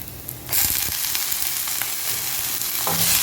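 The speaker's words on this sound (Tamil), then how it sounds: "முட்டைக்கோஸ் கொஞ்சம் வதங்கட்டும்" Shredded cabbage sautés in a hot pan for a veg puff filling, giving a loud, continuous close sizzle with faint scraping as it is stirred.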